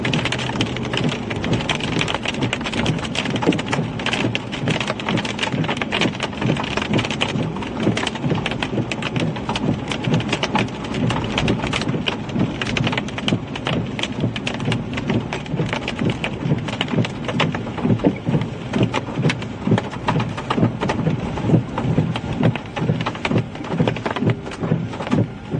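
Heavy rain pours steadily on a vehicle during a supercell storm chase in Iowa, a dense, loud, unbroken roar with sharp drops drumming close by throughout.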